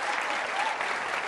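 Studio audience clapping during a televised Hindi political debate, a dense, steady burst of applause filling the whole moment without a break.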